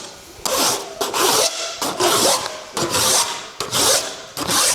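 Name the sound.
hand file filing an aluminum car body edge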